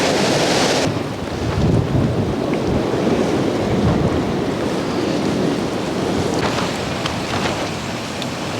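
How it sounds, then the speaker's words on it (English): Sea swell and waves surging below a coastal cliff on a stormy night, a steady loud broadband wash with wind buffeting the microphone throughout, rising and falling slightly without pause. "So hopefully I've judged the swell below this cliff here."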